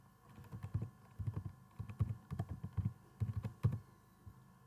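Keys clatter on a computer keyboard during SQL and SSIS setup work, quiet bursts of clicks in an irregular rhythm, alone with no talk.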